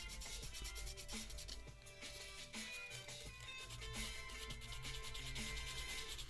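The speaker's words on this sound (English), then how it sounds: "now I can get back to sanding the collar of the bomber jacket" Steady rasping strokes of sandpaper on a cardboard bomber jacket collar for a hand-built figure kitbash, a continuous close scratchy rub with rhythmic back-and-forth texture and faint background music.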